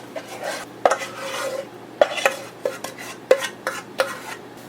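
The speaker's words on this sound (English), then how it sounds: "You're just going to add that mixture right into there." Pepper paste mixture is stirred into cabbage for traditional kimchi, with irregular wet scraping and clinking knocks against a bowl, close by and without talk.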